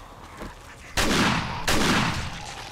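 Auto shotgun blasts in 7 Days to Die, two loud close bursts a fraction of a second apart, each ringing out with a long decaying tail over faint background noise.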